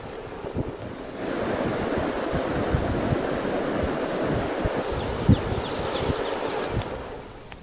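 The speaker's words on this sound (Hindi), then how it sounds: "चंबल नदी खतरे के निशान से करीब 7 मीटर ऊपर बह रही है" The Chambal river in flood near Sawai Madhopur, running about seven metres above the danger mark, rushes past in a loud, steady roar with gusty wind buffeting the microphone and a faint high hum partway through.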